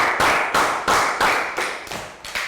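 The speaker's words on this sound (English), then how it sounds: "So round of applause." A classroom round of applause in a Year 3 maths lesson, heard as about seven loud, evenly spaced claps in unison with a steady beat and no voices.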